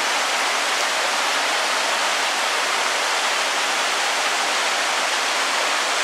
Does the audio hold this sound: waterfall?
yes